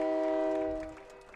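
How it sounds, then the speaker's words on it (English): A loud train horn blares at a high school football game, a sustained chord of steady tones that slowly fades, with a crowd murmuring faintly beneath it. "here comes Gaylord just in time as the train horn sounds"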